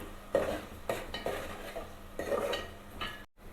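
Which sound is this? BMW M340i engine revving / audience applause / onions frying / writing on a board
onions frying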